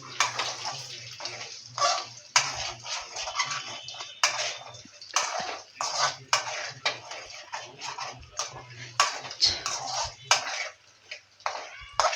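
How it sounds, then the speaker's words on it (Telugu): A spatula scrapes and taps against a pan while three eggs are mashed into a crumbly scramble like egg bhurji, producing close, repeated clinks and scraping strokes in an irregular rhythm with no talk. "ఇప్పుడు వాటిని బాగా స్మాష్ చేయాలి ఎగ్ బుర్జీ లాగా"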